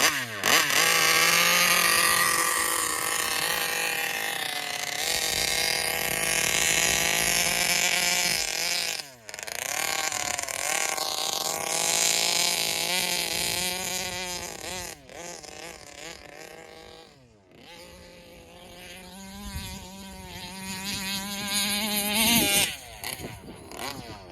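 A Taylor RC 71 Supreme nitro RC car engine screams loudly and continuously at high revs, its pitch rising and falling with brief dips as it runs outdoors at a fairground, with no talk.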